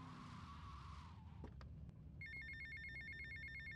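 A telephone rings during a Vice City game session, a steady electronic ringing tone that starts partway through. Engine and road noise from the game continue underneath, with a few brief clicks just before the ringing begins.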